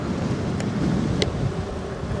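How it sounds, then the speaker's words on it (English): Strong wind buffets a microphone on a moving Tesgo Pioneer e-bike in a steady low roar, with two brief sharp ticks cutting through. "it is definitely windy"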